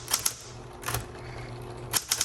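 Typing on a Smith Corona Electra 110 electric typewriter: a few sharp key strikes at the start, a lone clack near one second, then a quick cluster of three or four strikes over a steady low motor hum, no voices.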